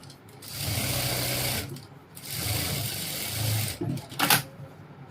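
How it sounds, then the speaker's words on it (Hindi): A sewing machine stitches a belt for ladies' pants. Two long steady runs of whirring, rattling stitching are followed by a shorter burst and a couple of mechanical clacks, all close and fairly loud. "और इस पर मार लेंगे लब की सिलाई"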